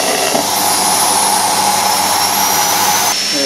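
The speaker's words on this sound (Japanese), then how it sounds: "それでは掃除機で吸ってみます。" A household vacuum cleaner roars continuously as it pulls air through a small tabletop tornado generator holding tiny styrofoam balls, a loud steady whooshing drone from start to finish.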